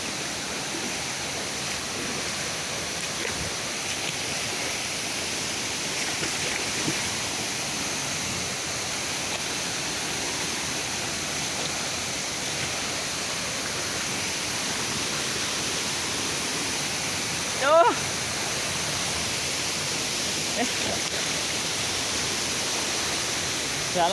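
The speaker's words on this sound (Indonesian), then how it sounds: "Ini air terjun bos." Waterfall at a forest nature site, a steady broadband rushing roar of falling water that fills the whole clip at even loudness, with one brief faint knock partway through and no talk.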